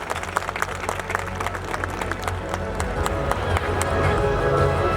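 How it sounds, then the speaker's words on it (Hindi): A school annual day audience breaks into applause, a dense wash of many hands clapping that swells and grows steadily louder over several seconds. "इसके लिए एक बार जोरदार तालियां"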